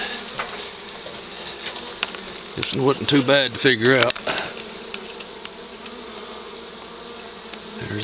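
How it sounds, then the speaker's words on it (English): Honey bees buzz in a steady close hum at a cabin trap-out, with someone talking briefly over the swarm noise partway through. "There's not many bees coming out."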